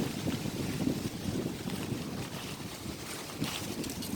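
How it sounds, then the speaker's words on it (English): Strong night-time wind gusting at up to 60 mph, with trees bending nearby, makes a steady, heavy broadband roar that buffets the microphone and swells in brief surges throughout. "Wind's pretty nice."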